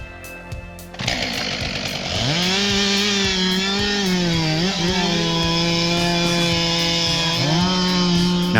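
A Stihl 462 chainsaw felling a tree starts with a short pull, then revs up into a loud, sustained whining roar that dips briefly mid-cut and climbs again, alone and close.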